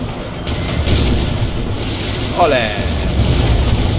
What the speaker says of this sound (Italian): l'esplosione avrà intimorito un po' gli animi nemici